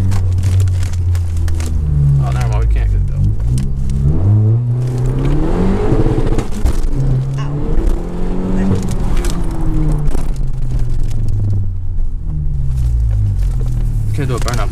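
A 10th-generation Honda Civic Si engine revs and pulls hard, its drone rising and falling in pitch through several surges, loud and close with steady road rumble underneath and voices faintly mixed in.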